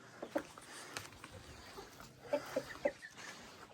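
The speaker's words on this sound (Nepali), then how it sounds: "कति ठुलो छ हाम्रो भाले यहाँ" In a village yard, a big rooster gives a few short, faint clucks in two small bursts, spaced apart, against quiet outdoor background.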